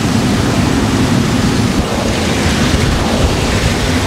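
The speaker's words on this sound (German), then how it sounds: "Wir hatten eben über 30 Knoten Wind" Wind of over 30 knots roars without a break across a sailboat at sea, loud and buffeting against the microphone and mixed with the rush of waves, with no voices.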